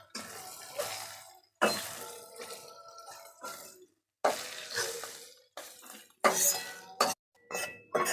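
Fried pabda fish lifted from a pan with a metal utensil, heard as close, bursty clinks and scrapes against the pan with brief watery splashes, no talking.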